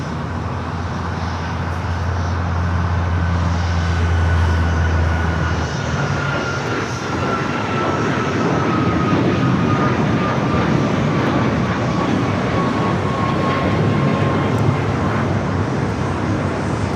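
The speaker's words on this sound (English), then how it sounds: "That is Alaska Airlines 1330 taking off to Liberia on the MAX 9" An Alaska Airlines Boeing 737 MAX 9 takes off from Los Angeles International Airport with a loud, continuous engine roar and rumble that holds steady throughout, a thin whine drifting above it.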